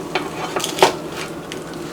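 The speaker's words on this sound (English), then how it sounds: "Y'all can hear that? I don't know if y'all can hear it. That's sizzling." A Cornish hen sizzles in an air fryer, a soft, steady hiss with a few light metallic clinks and taps close by.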